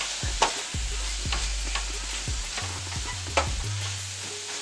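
Ingredients seasoned with crushed red pepper and salt are stirred in a sizzling pan, a steady hiss under several knocks and scrapes of a utensil against the pan, with no voices.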